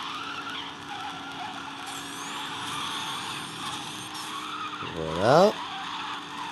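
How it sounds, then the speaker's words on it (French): A car drifts in the mobile racing game Need for Speed No Limits. A short, rising tire squeal cuts through a steady engine drone, while someone speaks French over the game sound. "Un joli petit dérapage"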